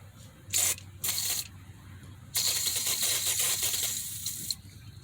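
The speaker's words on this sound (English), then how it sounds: "Always spray your bolts." Short hissing bursts of an aerosol penetrating oil sprayed on car bolts, two quick squirts followed by a longer sustained spray, close up with faint background noise.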